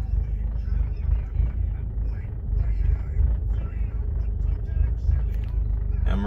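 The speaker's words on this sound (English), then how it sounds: "Let's put it in reverse, back this up off of the drive." A Volkswagen MK5 GTI backing off a driveway, heard from inside as a steady low engine rumble and idle drone with a faint creak, while someone talks over it.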